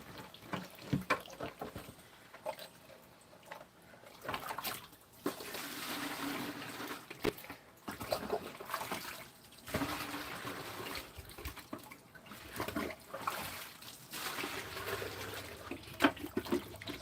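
Water runs from a house tap with a steady, noisy hiss and splash that swells and dips, fairly faint, with occasional clunks and handling noises and no speech.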